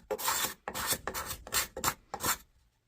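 A rasp files the leather insert of a pre-1900 golf club in five rough, rhythmic strokes, each a close, loud scraping burst with brief pauses between, fading to quiet at the end.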